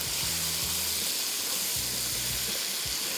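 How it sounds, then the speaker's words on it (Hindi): Chicken frying in a pan with a loud, continuous sizzle and brief stirring scrapes, no voices. "चिकन को थोड़ा सा फ्राई कर रहे हैं"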